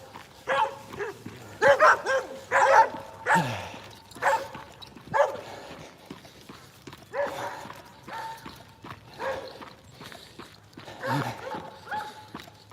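Dogs bark in scattered bursts, some sharp and close, others farther off, with footsteps crunching between them.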